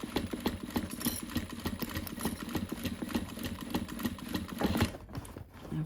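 Sewing machine stitching a tote bag gusset, a close rapid rhythmic clatter of needle strokes running steadily before pausing briefly near the end, with no talk.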